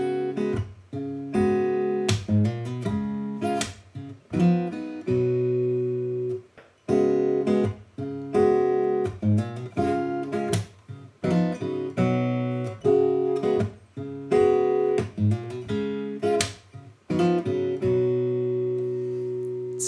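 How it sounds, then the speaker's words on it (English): An acoustic guitar riff from Split Enz's "Message to My Girl" in G, with a hammered bass note against ringing open strings, repeating as a bright, steady picked pattern throughout, played alone with no talk. "you hammer that bass note while you're playing the open strings"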